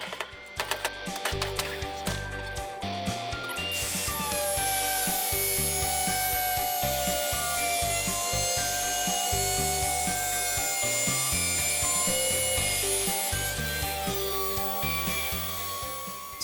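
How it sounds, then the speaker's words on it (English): A hand shear works through 14 gauge sheet metal during a Chevy van to International Loadstar chassis swap, giving a sustained grinding, scraping metal-on-metal rasp with rhythmic pulses, close and steady for most of the span. "14 gauge sheet metal is about the max capacity for this shear, so I need a little help to get through this piece"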